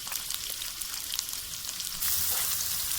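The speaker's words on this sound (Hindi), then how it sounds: "पॉट में ऑयल डालेंगे और प्याज शामिल करेंगे।" Onions sizzle and fry steadily in hot oil in a pot for an egg curry, a continuous crackling hiss that grows slightly louder and denser partway through, with no talking.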